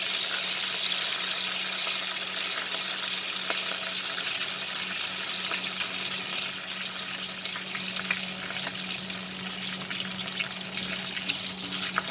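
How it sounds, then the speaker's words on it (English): Curry leaves splutter in hot oil for a chicken fry, a continuous crackling sizzle with scattered pops, steady and moderately loud throughout. "And I also add the curry leaves. Let it splutter for some time."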